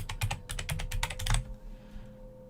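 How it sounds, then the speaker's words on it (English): Fingers type names on a computer keyboard in a quick run of crisp, close key clicks for about a second and a half, then fall quiet. "I'm going to type Maria, I'm going to type Elizabeth"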